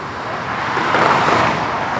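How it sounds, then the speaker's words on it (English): Cars drive on the road beneath an e-bike rider, making a steady broadband traffic rush that swells slightly as a vehicle passes near. "You hear the cars going in underneath us."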